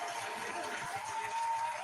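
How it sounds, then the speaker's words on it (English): A small group claps for a guest as a live stream ends, a steady, faint wash of applause lasting under two seconds with no speech over it. "Round of applause for Joe."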